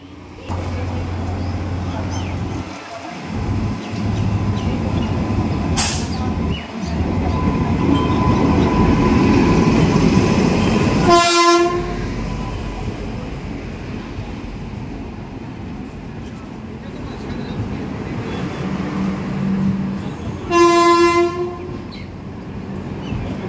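Passenger train number 03116 rumbles steadily past nearby on the Jalpaiguri Road–Sealdah route via Nasipur rail bridge, with two loud horn blasts, one midway and another near the end, and a voice speaking briefly over the noise.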